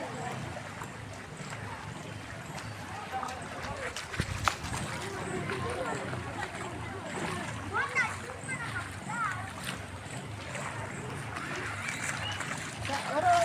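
Footsteps splash through ankle-deep floodwater at a church's main gate in Mukuru kwa Reuben, Kenya, after heavy rains, with uneven wet sloshing steps close by under steady background murmur and voices.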